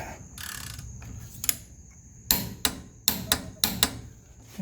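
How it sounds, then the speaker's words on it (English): Torque wrench tightening ball joint bolts on a 1983 Mercedes 300D front suspension: a few sharp metallic clicks and knocks in short clusters, near and fairly loud, with quiet pauses between. "we'll just run these down and then we'll torque them. All right, there's the torque wrench."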